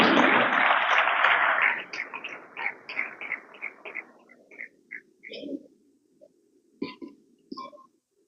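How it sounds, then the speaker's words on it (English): Audience applause at a public-private sector business roundtable, a loud burst of many hands clapping that fades after a couple of seconds into scattered claps and room noise. "Please, another round of applause for our Honorable Commissioner."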